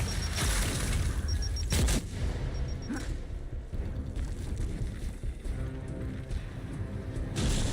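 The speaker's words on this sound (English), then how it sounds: "Fire in the hole! Throwing frag!" Frag grenade exploding in a video game, a heavy booming blast near the start followed by rumbling, crackling debris and game effects that stay loud and dense throughout.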